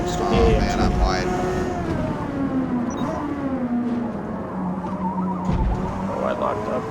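Tires squeal and skid as the brakes lock up in Forza Motorsport, a drawn-out wavering screech over a loud revving race-car engine that fades as the car runs off track.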